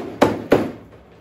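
Two quick, solid thuds as a rubber hammer strikes metal to straighten it for a garden compost sifter, each blow close and dull, fading out with no talking.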